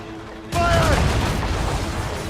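A sudden, loud burst of ship cannon fire in the Assassin's Creed Rogue video game, a heavy boom with a long rumbling tail, a shouted voice faintly over it.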